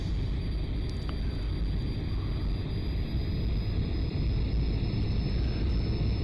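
A steady, unbroken aircraft engine drone plays alone in the Aerofly FS 2 flight simulator game, from a floatplane in flight, with a thin high whine riding over the low rumble.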